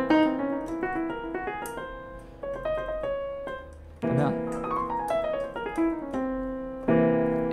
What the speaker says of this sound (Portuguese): Esse é o som da escala alterada.